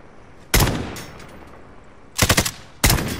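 Close, loud machine gun fire in Call of Duty, three separate bursts with quiet gaps between them, the middle burst a rapid stutter of several shots.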